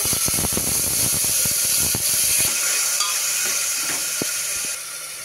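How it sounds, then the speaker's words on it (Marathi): Soaked lentils (dal) go into a hot pan with cumin and asafoetida for Jain cooking without onion or garlic, setting off a close, steady sizzling hiss with scattered crackles that quietens toward the end; no talking. "आता आपण ही भिजवलेली डाळ त्यामध्ये घालूया"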